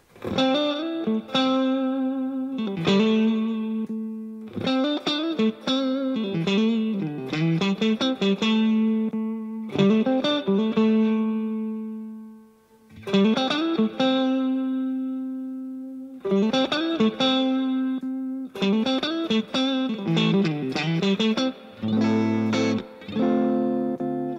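Electric guitar through a Fender Blackface Super Reverb amp, clean ringing chords and single-note phrases played in bursts with short pauses, up close and fairly loud.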